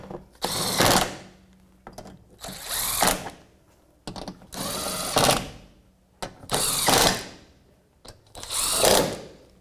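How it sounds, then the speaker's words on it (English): Ratchet with a 12mm socket turning to remove the oil filter housing cap on a 2001-2007 Volvo V70. Five bursts of rapid clicking come close up, each about a second long and split by brief pauses, with no talking. "There we go, 12mm socket on this one."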